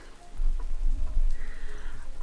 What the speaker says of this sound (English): It's raining currently, yay!